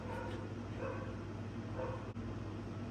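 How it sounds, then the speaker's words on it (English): A dog barks somewhere outside, faint and distant, beneath a steady low hum that fills the whole stretch. "Dog's barking."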